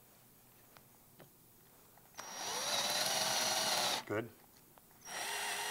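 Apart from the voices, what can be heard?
power drill boring 1/4-inch drainage holes in birdhouse wood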